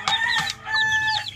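A hen gives a short, close burst of clucking, two quick calls and then a longer drawn-out note, clear against a quiet background.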